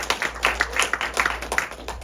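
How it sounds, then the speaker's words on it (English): An audience claps for festival volunteers, the applause sounding as a dense, uneven patter of hands with sharper individual claps standing out. It carries steadily for about two seconds with no voices over it. "Please thank your volunteers. Give them a round of applause."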